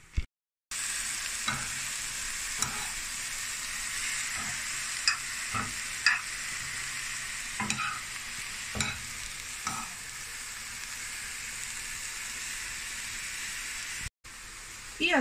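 Zucchini and other vegetables fry in a pan with a steady sizzle, near and continuous, punctuated by repeated stirring scrapes.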